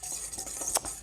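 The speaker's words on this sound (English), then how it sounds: "so I'm just mixing these ingredients together" A spoon stirs ingredients for a sesame glaze for salmon, giving a quick run of soft scraping and clinking against a bowl, close and fairly quiet.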